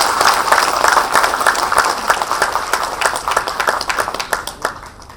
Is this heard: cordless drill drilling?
no